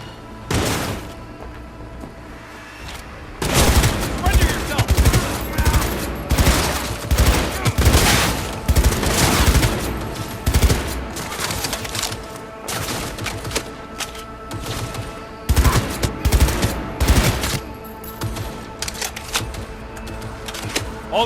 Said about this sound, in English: All units report! Opening fire!